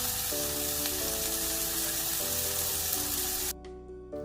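Bacon sizzles on a Chefman electric smokeless indoor grill, a steady fizzing crackle that holds evenly for about three and a half seconds before dropping away sharply, with no voices.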